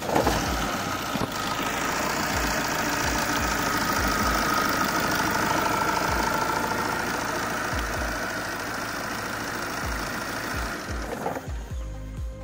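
A Tata Zest car engine with about 60,000 km runs steadily at idle after starting, with a rhythmic mechanical knocking and clatter, close and continuous, ending with a brief change near the end.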